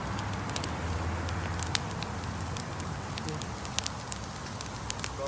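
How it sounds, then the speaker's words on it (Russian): A campfire burns steadily with a dense, continuous crackle and scattered sharp pops, heard close and filling the whole stretch. "Горит костер."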